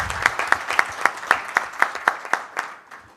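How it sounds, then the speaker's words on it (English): An audience at the ICAHT 2016 gathering gives a round of applause, with several close, crisp claps landing in a steady rhythm over a lighter spread of clapping that gradually winds down. "let's have a round of applause for all of them"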